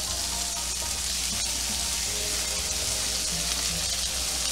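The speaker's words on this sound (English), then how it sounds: "A little to no oil. Now we're gonna add our onions." Onions hitting a pan with little to no oil while tagine-roasted beef back ribs are prepared, a loud, dense, continuous sizzle and hiss up close, with no talking.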